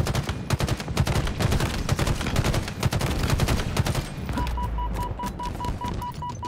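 Rapid bursts of battle rifle gunfire in the Halo Infinite campaign, sharp repeated three-round volleys with other weapons firing around, loud and close, followed by a steady electronic beeping tone near the end.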